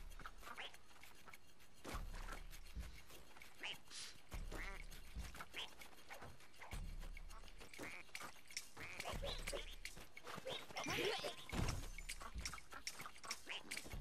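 Quacking, clucking bird calls from a chicken power in the video game Rayman Legends, repeated squawks over busy game music and effects, with no talking.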